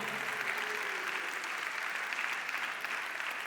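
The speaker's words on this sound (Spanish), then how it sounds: "denle un aplauso fuerte al Señor" A church congregation applauds in a continuous, even wash of many hands clapping, steady and moderately distant, with no talking over it.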